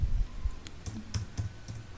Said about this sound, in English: I am just typing any English word here